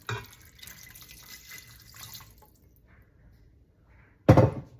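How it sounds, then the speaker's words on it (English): Water and soy sauce trickle and splash into a pan while making Mongolian beef, followed by a brief loud sizzle near the end. "we have about a half a cup of water and a little bit of soy sauce, and that's going in"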